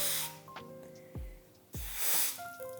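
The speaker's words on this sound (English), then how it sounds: "spray it from underneath with the cool spray. So this is compressed cold air." Two short hissing bursts of compressed cold air spray onto a chocolate flower garnish, close by, separated by a brief pause, with a couple of soft low thumps.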